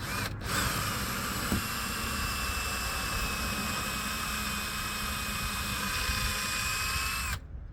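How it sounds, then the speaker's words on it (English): A power drill whines steadily at close range as it bores a hole on board a boat, a single sustained run of about seven seconds that starts and stops abruptly, with no talking over it. "the trick is I have to drill 4 holes and try not to wiggle it in between"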